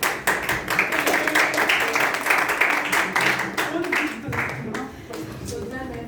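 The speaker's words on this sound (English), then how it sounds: "let us give a big round of applause to all the speeches and excellent" Audience at a youth leadership meeting claps in a steady burst of applause that fades near the end, with a voice speaking over the clapping.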